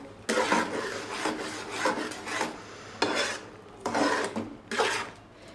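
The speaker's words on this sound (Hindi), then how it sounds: "एक दफ़ा इसमें चम्मच हिला लेंगे ताकि ये हलवा जो है वो नीचे ना लगे" A spoon scrapes and stirs thick semolina halwa drying in a pan with milk, several rasping strokes in an uneven rhythm, close and clear with no voices.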